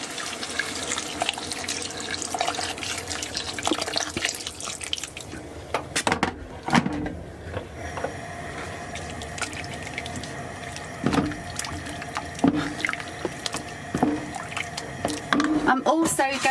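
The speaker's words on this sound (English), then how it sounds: "And fill with hot water." Hot water running from a tap into a cooking pot with beef stock for a rich stew, a steady splashing pour that shifts in pitch as the pot fills, with a few clanks and a voice talking over it.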